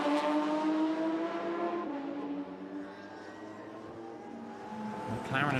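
Race cars lapping during qualifying at Vila Real, a sustained engine whine with shifting pitch as cars pass, heard under ongoing commentary and fading midway before another car rises near the end.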